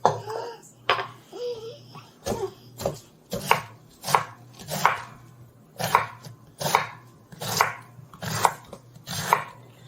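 Cabbage with salt being hammered in a container for sauerkraut: a series of sharp, loud, evenly spaced thumping blows, about a dozen in ten seconds, with a brief voice near the start and a low background hum.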